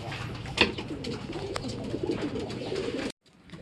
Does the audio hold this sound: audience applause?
no